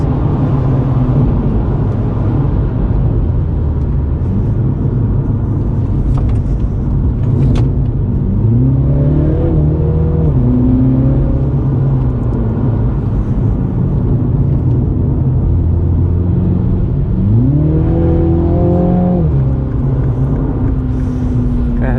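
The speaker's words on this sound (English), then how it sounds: "Seems to accelerate quite well even in the damp conditions." Mini Cooper F56 GP3 on a damp race track, heard from inside with a steady engine drone and two distinct rising revs through the gears around the middle and near the end, the loud engine note climbing and dropping back each time.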